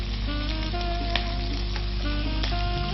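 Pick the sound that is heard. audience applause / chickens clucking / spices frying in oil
spices frying in oil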